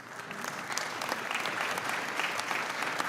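Audience at a congressional committee hearing applauds continuously, a full dense round of clapping filling the room.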